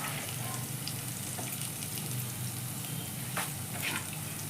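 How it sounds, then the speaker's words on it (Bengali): Grated onions frying in a pan for a Bengali prawn dish, a steady close sizzle with faint crackles and no talk. "এবার আমি এই পেঁয়াজ দুটো দিয়ে দিলাম। পেঁয়াজটা 1-2 মিনিট একটু ভেজে ভেজে নেব"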